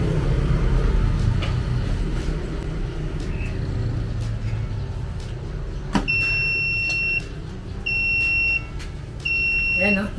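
An alarm on a powder coating oven, tested during a three-hour continuous run, beeps in short repeated bursts, three evenly spaced beeps in the later half, loud over a steady mechanical hum while someone talks.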